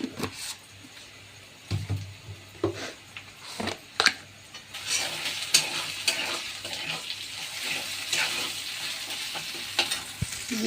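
Spice mix with cumin powder sizzling and frying in a pan, with irregular scraping stirs at first, then a denser, louder hiss of frying that continues to the end, close up, with no talking.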